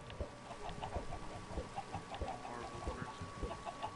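Chickens cluck softly in Minecraft, a few scattered short clucks repeating over a steady background hiss, fairly faint and with no talking.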